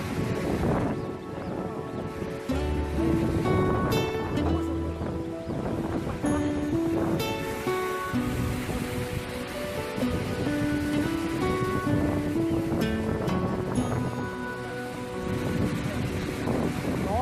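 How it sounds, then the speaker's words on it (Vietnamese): A waterfall in southern Vietnam drops about 300 metres, a constant heavy roar of falling water mixed with gusting wind on the microphone, with people talking throughout. "Nước từ trên cao xuống 300 mét."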